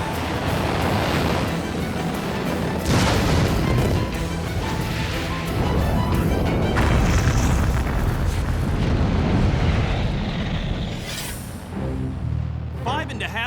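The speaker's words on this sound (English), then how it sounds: "the range safety officer issues a command to self-destruct." A four-stage Juno rocket carrying the Explorer S-1 satellite explodes after liftoff when destroyed by range safety, giving a loud, sustained, rumbling blast with crashing debris that runs the full length. A voice speaks over it throughout.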